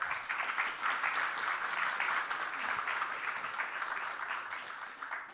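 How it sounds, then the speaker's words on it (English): Sustained audience applause in a conference hall at a Moldova security forum, a steady dense wash of many hands clapping from start to finish with no voices over it. "just clap your hands"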